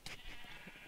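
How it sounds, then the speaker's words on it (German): A black sheep bleats in Minecraft, a short, faint wavering bleat amid low game background noise. "Warte, ich schlage das schwarze Schaf."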